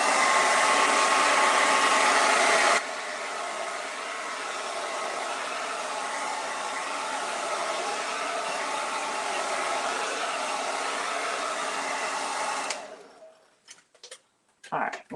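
A hair dryer blows on a witch hat to dry its paint, a loud steady whoosh that drops to a lower setting after a few seconds, runs on, then cuts off, followed by a few handling clicks.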